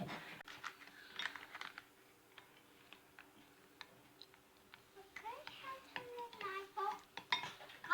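Children stir thermochromic powder into glue in a bowl, the spoon making quiet clicks and scrapes under frequent chatter from the kids.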